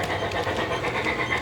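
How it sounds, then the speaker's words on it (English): A Thomas the Train model train in festive holiday lighting, hauling a Christmas tree through a tunnel: a brief, steady, close rumble of rolling wheels on track. "It's oh my gosh, it's Thomas the Train"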